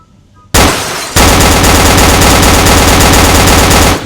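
Auto pistol firing in the Roblox video game: very loud rapid automatic fire, starting with a short burst and a brief break, then a continuous stream of shots for about three seconds.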